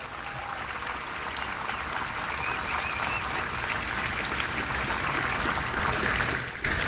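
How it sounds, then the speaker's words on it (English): Steady applause from a sizable crowd at a military guard change-of-command ceremony, a dense even patter of clapping that holds for several seconds and fades slightly at the end. "give the Honor Guard and Band another round of applause"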